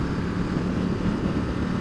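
A 2016 Ducati XDiavel motorcycle engine in sport mode drones steadily while riding in pouring rain, a continuous dense rumble mixed with wind and road noise, no distinct revving peaks.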